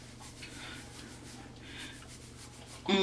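Hands massage oil into the scalp and hair while prepping it for locs, giving a faint, steady soft rubbing and swishing that runs throughout, with a brief sharper rustle at the very end.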